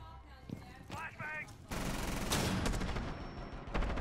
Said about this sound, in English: I'm still getting shot at.